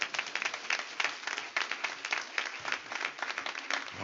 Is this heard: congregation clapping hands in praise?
yes